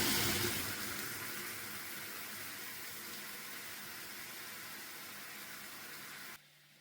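Half a cup of boiling water pours into bubbling sugar caramel for a coconut cake, a loud, rushing hiss that fades slightly as it goes and cuts off abruptly near the end.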